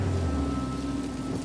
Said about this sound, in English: I don't think we've ever had this much rain.